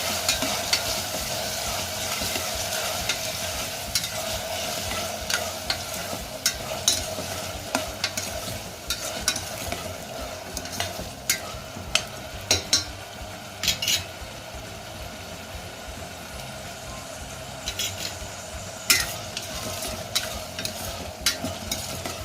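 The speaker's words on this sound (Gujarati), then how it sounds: "આપણે ટમેટાના ટુકડા ઉમેરી દેશું અને હવે બધું સારી રીતે ચલાવી લેશું" Sambhar with tomato pieces being stirred in a pan, continuous bubbling sizzle under repeated scraping and clinking of a spoon against the pan, fairly loud and close, with no voices.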